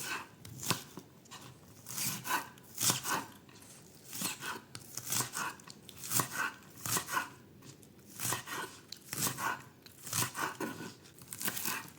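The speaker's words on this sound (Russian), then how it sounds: "Нарезаю лук перьями." A knife chops green onion into long strips on a board while making Vietnamese pho soup: close, crisp, evenly spaced chops in a steady rhythm throughout, with no talking.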